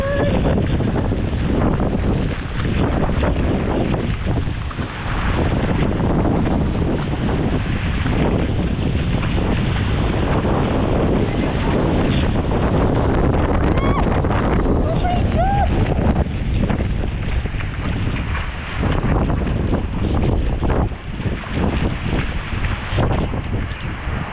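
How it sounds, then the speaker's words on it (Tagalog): Heavy rain and wind from Typhoon Uwan roar loudly and without a break, a dense and blustery wash with gusts buffeting the microphone and occasional faint voices. "Ang lakas ng ulan."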